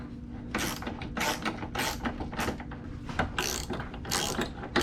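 Ratchet wrench rapidly clicking in repeated bursts while tightening nylock-nut bolts on Outback Motortek motorcycle pannier racks, close and steady with brief pauses between strokes.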